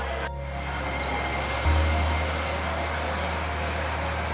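A train runs on rails with a steady, loud rumble and low hum, swelling slightly partway through, with no voices.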